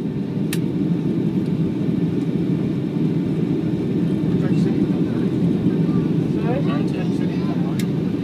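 A Thomson Boeing 757 airliner on final approach into Marsa Alam: a loud, steady engine and cabin roar fills the whole stretch, with faint higher sounds rising briefly above it.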